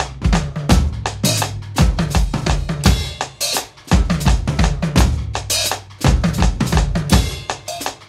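A six-beat drum riff pounds out in loud, close bursts, a repeating pattern of heavy tom and cymbal hits broken by short gaps, with no talking.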